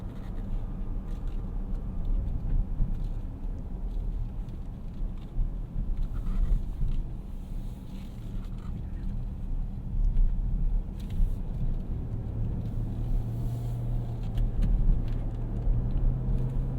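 A 2022 Dodge Durango R/T Plus AWD, a heavy 360-horsepower SUV, drones with a steady deep engine rumble while driving, heard from inside the cabin with road noise and no talking.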